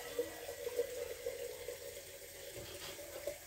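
Water is poured from a pitcher into a bowl in a home kitchen during wok shrimp preparation, a faint, steady splashing trickle running unbroken for a few seconds.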